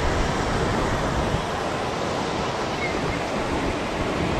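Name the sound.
sea waves on beach at Gokarna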